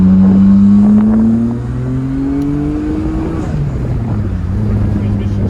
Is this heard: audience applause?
no